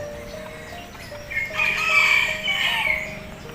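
A rooster crows once at a Thai temple in Hua Sai, Nakhon Si Thammarat, a long rising and falling call from nearby, over a low steady background hum.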